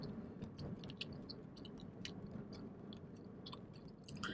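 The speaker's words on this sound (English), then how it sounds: "I chew it so much or so fast" Juicy Fruit chewing gum chewed steadily up close, with soft, wet, repetitive mouth clicks and squishes that are quiet but continuous and have no talking.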